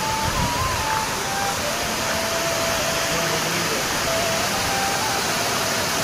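Waterfall pouring in a steady, loud, unbroken rush of white noise, close by and constant throughout, with no voices over it.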